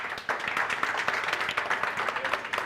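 Crowd at a school football championship ceremony applauds a Malawian team, with many hands clapping in a lively, crackling burst and individual claps standing out, moderately loud throughout.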